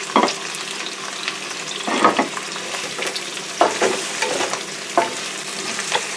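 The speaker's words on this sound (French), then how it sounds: "Faire revenir pour griller un peu, amuser un peu les oignons avec le poisson." Onions and fish fry in a pan for a Cameroonian white peanut sauce, a constant crackling sizzle punctuated by several distinct scraping stirs of the utensil, close and clear.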